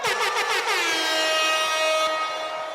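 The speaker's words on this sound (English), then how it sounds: "You got the air horn." A loud, blaring air horn blast, starting with a warbling burst and then holding a steady, piercing tone before cutting off.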